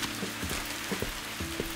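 Rain falls steadily in the video game Viewfinder among brick buildings, a constant hissing patter with soft drips, and no talk.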